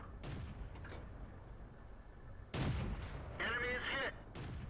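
Tank guns in World of Tanks, including a Marder 38T, fire a few muffled booming shots with short rumbling tails, sounding distant and fairly faint under a low background.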